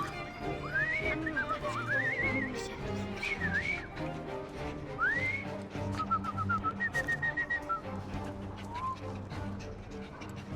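A man whistles a halting, wavering tune in Victorian London in Assassin's Creed Syndicate, a string of short rising and sliding notes near and clear over soft ambient background.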